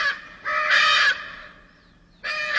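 Loud harsh squawking calls from Lear's macaws, endangered blue macaws feeding on licuri palm nuts, as they take flight; two raucous bursts separated by a short pause, close and clear.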